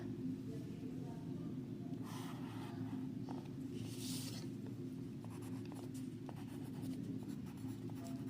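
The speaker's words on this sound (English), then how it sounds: "So first draw line segment 5 centimeter." A pencil draws a 5 cm line segment on paper during a geometry construction, giving faint scratchy strokes over a steady low hum in a quiet room.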